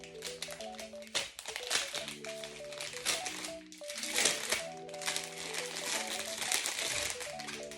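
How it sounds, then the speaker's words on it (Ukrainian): A Hogwarts logo backpack being unwrapped from its packaging gives close, busy crinkling and rustling in irregular bursts, with a brief quieter gap before the handling resumes. "такий рюкзачок з логотипом Хогвартсу, оскільки я фанатка Гаррі Поттера. Тож давайте його відкриємо разом."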